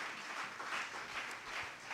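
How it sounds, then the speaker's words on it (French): A church congregation applauds to acclaim Jesus, a soft, distant wash of clapping that holds steady throughout with no distinct voices. "acclamez Jésus. Acclamez-le."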